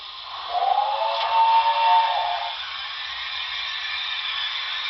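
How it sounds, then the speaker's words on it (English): A Paragon4 sound decoder in a BLI NYC Commodore Vanderbilt Hudson model locomotive plays a lumber mill effect: a thin, band-limited buzz with a rising saw whine near the start, then a steady hum. "Lumber mill sounds, 21."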